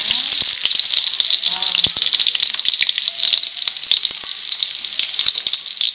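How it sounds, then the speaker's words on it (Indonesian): Shallots dropped into hot cooking oil sizzle and crackle loudly and steadily, a bright continuous frying hiss with scattered pops, heard close up while a person speaks briefly over it. "ini minyaknya udah panas, kita masukkan bawang merah,"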